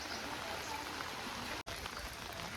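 A swollen monsoon stream runs under a small bridge in rural Konkan, a faint, steady rushing wash with a brief dropout.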